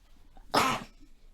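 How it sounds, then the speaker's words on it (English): A single abrupt, breathy sneeze bursts out close by and cuts off quickly, with quiet room tone before and after. "I'm going to sneeze."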